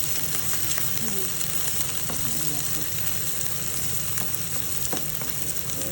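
Curry with small young fish cooking in a pan gives off a steady, close, unbroken frying sizzle that holds evenly throughout, with no one speaking.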